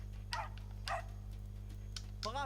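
Milou, the white fox terrier in a Tintin video game, gives three short yapping barks spaced across a couple of seconds over a steady low game hum, followed by a brief whimpering whine at the end.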